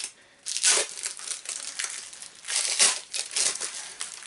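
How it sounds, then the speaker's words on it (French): A roll of sticky tape is handled close up, giving bursts of crinkling and light tearing sounds in uneven clusters, with no talking. "C'est toujours le problème avec le scotch, c'est de trouver le début."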